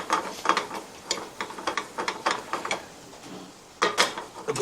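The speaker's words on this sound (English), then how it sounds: "give them a stir with the gardons" Shallots, chanterelles and fresh rosemary are stirred in a pan, giving close, irregular scraping and clacking strokes with a soft sizzle underneath and a short pause before a final flurry.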